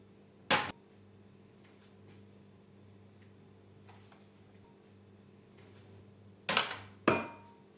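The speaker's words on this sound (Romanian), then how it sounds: "Luăm borcanele și le punem într-o tavă de inox ca să nu se spargă când punem lichidul fierbinte." Glass jars set down one after another into a stainless steel tray, three sharp clinks, one early and two close together near the end, over a quiet room.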